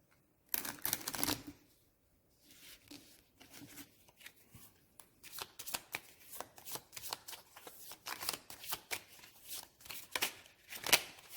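Cards from the Dune Imperium board game are shuffled close by during a solo game, quiet rapid riffles and flicking bursts that grow busier and more continuous toward the end, with soft handling sounds between.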